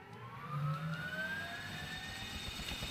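A helicopter in GTA Vice City lifts off: a steady droning engine whine with a rising turbine pitch, loud and continuous over a low rumbling hum, with no talking.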